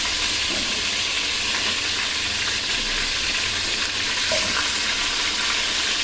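Large pieces of meat for roast frying in oil in a pot, giving a steady, dense crackling sizzle and hiss, close and fairly loud throughout with no talking.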